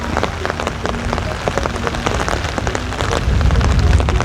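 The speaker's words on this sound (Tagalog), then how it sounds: "Lakas ng ulan." Heavy rain pours steadily on a hard surface, a dense continuous patter with scattered louder drops, growing slightly stronger toward the end.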